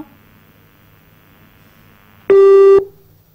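A telephone line gives one short, loud busy-tone beep after a caller's call drops during a TV health phone-in programme. A low background hum comes before the beep, and the clip ends in near silence.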